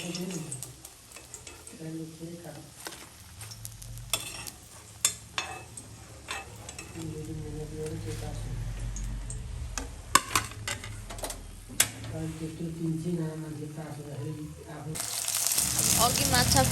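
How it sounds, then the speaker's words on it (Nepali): Soaked dried fish frying in hot oil, a steady low sizzle with occasional stirring clicks and taps, close up and continuous, with no one speaking. "भिजाएर राखेको माछालाई तेलमा अब म फ्राई गर्दैछु।"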